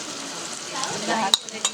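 Chopped onion goes into minced pork frying in a pan, giving a steady soft sizzle with a couple of sharp metallic clinks from a utensil near the end.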